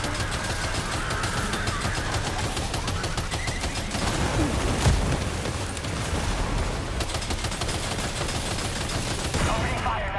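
Continuous heavy gunfire in the Death Stranding 2 video game, dense rapid automatic bursts mixed with booming impacts, loud and sustained throughout with no pauses.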